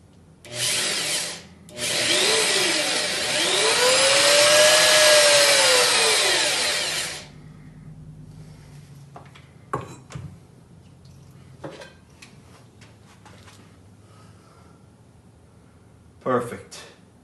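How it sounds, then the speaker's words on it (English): A power drill with a left-handed bit bores into a brass screw in an antique wooden carpenter's tool box, whining loudly for several seconds with a rising and falling pitch, followed by quieter handling clicks and brief taps. "switch over to our left-handed drill"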